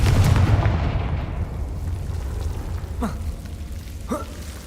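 Confringo, a fiery blasting spell in the Hogwarts Legacy video game, goes off with a heavy explosive boom followed by a fading rumble, then two quick whooshing magical streaks.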